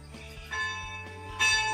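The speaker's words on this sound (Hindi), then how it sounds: "देखिए हम पहुँचे और घंटी शुरू हो गया।" A bell rings with sustained metallic tones, struck again partway through, each strike louder and ringing out over a steady background hum.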